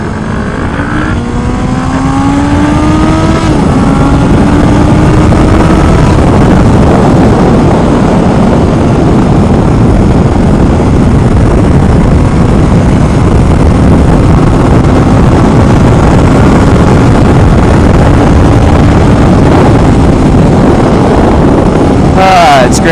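A Honda Nighthawk S motorcycle is ridden on a curvy road, engine revving up through gears at first, then a steady loud drone with heavy wind rush close to the rider.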